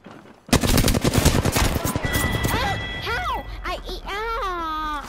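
In a shooter video game, a dense burst of rapid automatic gunfire rattles loudly and up close, then fades as excited voices talk and shout over the remaining game sounds.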